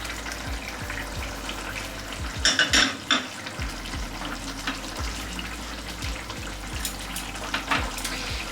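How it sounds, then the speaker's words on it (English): Pomfret fish going into a simmering Bengali-style curry in a pan, a steady close sizzle and bubbling with spoon scrapes and a brief clatter of cookware, no voices. "So now I'm going to go ahead and add the pomfret."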